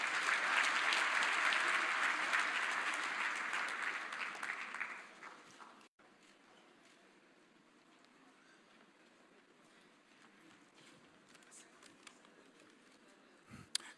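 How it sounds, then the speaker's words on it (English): Applause from a dinner audience at a Team Botswana appreciation event, a dense round of clapping that fades out after a few seconds and leaves a quiet room with scattered faint sounds. "A round of applause,"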